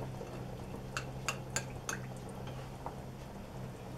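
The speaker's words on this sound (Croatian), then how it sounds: "I tu ćemo malo ocediti limuna." Lemon juice squeezed by hand into creamy chicken soup, a handful of small distinct drips falling in quick succession into liquid, quiet and close with a faint steady hum behind.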